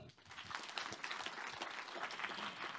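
Audience applause at an education conference in a hall, a dense, steady clatter of many hands clapping for nearly three seconds, moderately distant with no voices over it.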